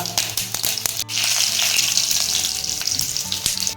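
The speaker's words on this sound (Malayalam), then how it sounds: "ചൂടായി, കടുക് ഇടാൻ പോവാണേ." Mustard seeds dropped into hot oil for a Palakkad-style jackfruit podi thooval, crackling and spluttering in a loud, busy sizzle after a brief clatter, with sharp pops scattered through the frying and no talk.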